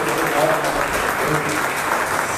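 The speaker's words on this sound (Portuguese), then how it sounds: "vamos dar aquela linda salva de palmas" A church congregation gives sustained applause during a worship service, a dense steady clapping filling the room with a voice speaking over it.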